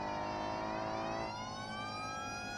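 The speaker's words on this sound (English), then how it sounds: "Using this old ass siren." A police siren in the BeamNG driving game wails continuously, a loud steady electronic tone that shifts pitch partway through, with no talk over it.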